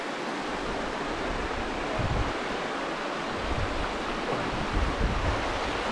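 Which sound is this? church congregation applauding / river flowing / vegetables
river flowing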